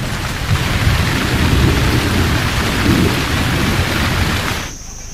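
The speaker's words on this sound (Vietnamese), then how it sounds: "Trên các đồng cỏ xa xôi, những cơn mưa mùa hè cuối cùng đã xuất hiện." Summer thunderstorm rain pours over remote grasslands in a steady, dense hiss with low rumbling thunder beneath it, then fades near the end.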